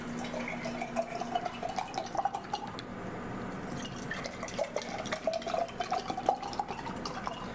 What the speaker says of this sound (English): So I'm going to take this dead water, Hawaiian Mountain Fresh, pour them into these mason jars.